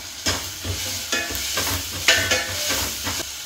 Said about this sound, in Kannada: ಟೊಮ್ಯಾಟೋ ಕೂಡ ಬೇಯಲಿ ಅಂತ ಸ್ವಲ್ಪ ಉಪ್ಪು ಹಾಕೊಳ್ತಾ ಇದ್ದೀನಿ.